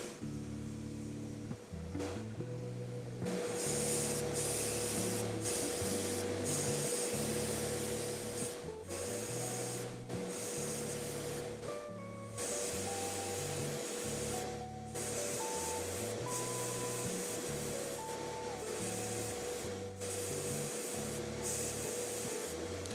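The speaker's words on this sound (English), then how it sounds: "I'm just kind of gently airbrushing on some of this light neutral gray on these panels here" An airbrush sprays light neutral gray paint onto Wolfenstein miniature panels, giving a steady close hiss throughout with faint mechanical hum and brief pauses.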